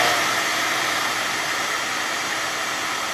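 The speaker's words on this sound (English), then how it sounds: "Let's test it using a blow dryer." A blow dryer blows steadily on a refrigerator temperature sensor during troubleshooting of an LG fridge with no cold air, giving a loud, continuous broadband whoosh that holds even from start to finish with no talk.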